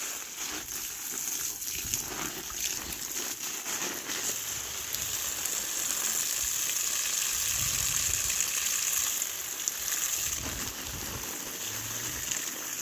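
Steady running water pours and splashes continuously close by while plants are watered in a tropical garden, a broad hissing flow with no voices.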